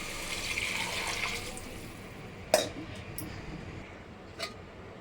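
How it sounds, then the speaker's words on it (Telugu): Two glasses of water poured over rice in a cooking vessel, a steady close rush of liquid that eases off, followed by a couple of brief clinks. "రెండు గ్లాసులు నీళ్లు పోస్తున్నాను"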